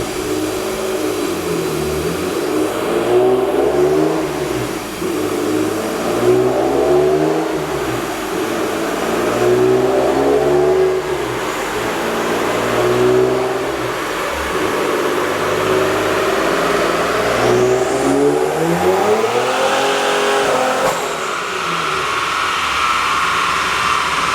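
A 680-horsepower Nissan G35 roars nearby, its engine revving repeatedly in long rising and falling sweeps under a constant heavy drone, with no voices over it.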